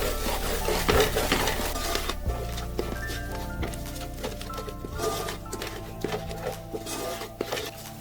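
Fish frying in a pan while being stirred, with steady scraping and rubbing contact noises over a continuous cooking background, close and moderately loud, and no talking.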